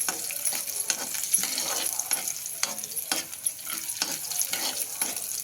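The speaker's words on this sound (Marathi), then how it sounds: "असं चांगला परतून घेऊ लसूण आणि जिरं." Peeled garlic and cumin seeds fry in a pan with a close, crackling sizzle while a spoon stirs and scrapes in a regular rhythm of clicks, with no voices.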